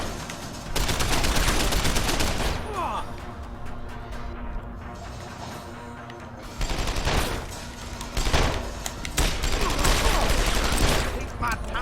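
Video game gunfire in Deus Ex: Human Revolution: dense bursts of rapid shots and crashing impacts, loud and sustained, dropping to a quieter stretch in the middle before more heavy firing returns.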